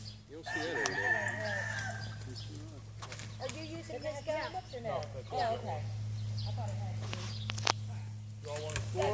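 Rooster crowing near a white turkey it is fighting, with a drawn-out crow early on followed by clucks, scuffles and footsteps, while people talk over the birds.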